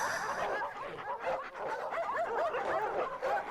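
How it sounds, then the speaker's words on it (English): A pack of hounds growls and barks in a game scene, a close, loud flurry of overlapping snarls and yips rising and falling continuously without pause. "growls grew louder."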